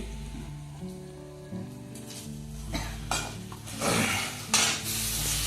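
Sabudana (tapioca pearls) being tipped into a hot pan and stirred for a Maharashtrian village breakfast, with a steady sizzle, scraping spoon strokes against the metal and a few louder clatters near the end, no talk.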